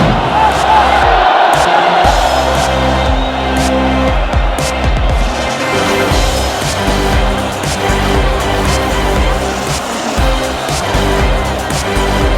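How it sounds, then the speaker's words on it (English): A dense, roaring crowd at the Running of the Bulls during San Fermin fills the air with loud, continuous cheering and shouting, punctuated by sharp bangs and clatter, all close and unbroken throughout. "crowd goes nuts."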